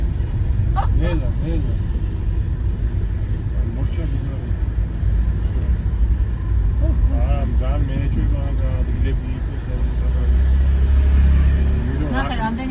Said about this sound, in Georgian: ნახე, რამდენი მანქანა ჩადა.